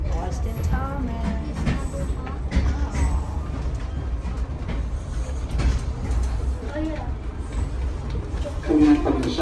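Steady low rumble of a moving train interior, with people talking over the continuous rolling noise and occasional clatter.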